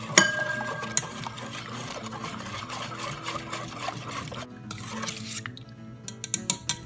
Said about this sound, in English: Now I'm just going to whisk that together until my brown sugar is dissolved.